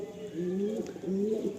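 Pigeons in an Andhra pigeon loft give two drawn-out, rolling coos in close succession, near and clear, with a soft murmur of other birds behind.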